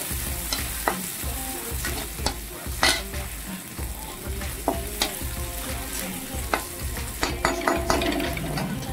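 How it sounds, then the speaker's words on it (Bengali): Onion, ginger and garlic frying in oil in a pan, a steady sizzle broken by repeated scraping stirs of a spoon, close and alone with no voices. "প্রথমে এরকমভাবেই পেঁয়াজ আদা আর রসুনটার কাঁচা গন্ধ চলে যাওয়া পর্যন্ত এটাকে ভালো করে ভেজে নিতে হবে নেড়ে চেড়ে"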